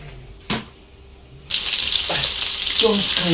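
Onions dropped into already hot oil for a rui fish and kochurmukhi curry: a short clunk, then a loud, sudden sizzle that continues steadily and close up, with a few faint knocks.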